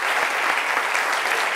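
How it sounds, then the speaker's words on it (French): Studio audience applauding loudly on a French midday TV show, a dense, continuous burst of clapping with no talk over it. "on applaudit très fort, Dr Philo."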